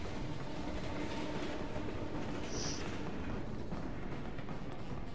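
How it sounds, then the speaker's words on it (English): A train rumbles past in Final Fantasy VII Remake, a steady dense roar filling the whole stretch with faint rail clatter and a brief high squeal midway. "Don't worry about trains"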